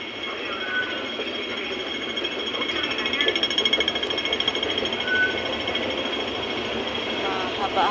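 Underground metro train ride in Hong Kong, a steady rumbling rail hum with faint rhythmic clatter running throughout, heard from inside the carriage with a nearby voice talking over it.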